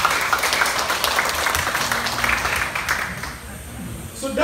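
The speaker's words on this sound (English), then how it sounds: "Round of applause for yourself." Audience applause at a TBC Philippines conference in Baguio, a steady wash of clapping that carries through the whole stretch at fairly even loudness with some crowd noise, then thins near the end.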